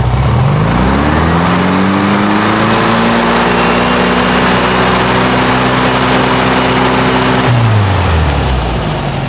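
A 1973 VW Thing engine revs up and holds a steady set RPM, a loud continuous drone with rising then level harmonics that drop as it slows near the end.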